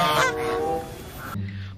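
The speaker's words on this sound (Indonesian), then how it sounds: "ternyata ini bebek." A single loud, nasal honk from a duck sounds close by, followed by a shorter, lower call.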